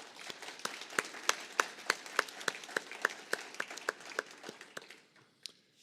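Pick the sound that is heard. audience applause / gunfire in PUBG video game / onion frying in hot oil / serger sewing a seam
audience applause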